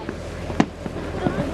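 Fireworks go off while heard from a boat on the water: a few scattered pops, one sharper bang standing out, over a low steady background.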